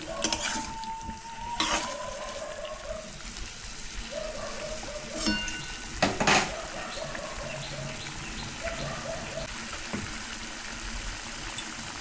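Marinated lemon pepper chicken fries over high heat in a pan, with a steady sizzle broken by scraping stirs and utensil knocks. A faint tonal chirp drifts in the background.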